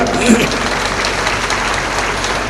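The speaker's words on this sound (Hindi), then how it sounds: "ताली बजाओ ना तुम" Audience at a Kumbh Mela religious discourse clapping, a steady broadband wash of applause at moderate level with a voice briefly present over it.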